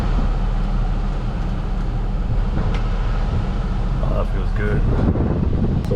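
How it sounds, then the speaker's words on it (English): Car air conditioning blower pushing cold air after a quick bolt-on fix, a steady close whooshing hum with faint mechanical rattles and light sounds near the end. "you have a blowing cold AC"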